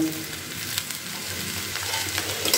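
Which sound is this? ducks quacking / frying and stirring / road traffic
frying and stirring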